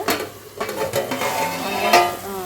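Onions frying in a pan for boiled egg gravy, sizzling steadily while a spoon scrapes and stirs against the metal in irregular strokes, close and moderately loud.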